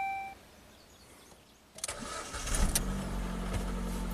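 A Ford Fiesta with stalling and no-crank trouble cranks briefly and catches, then settles into a steady idle, loud and close after a quiet opening.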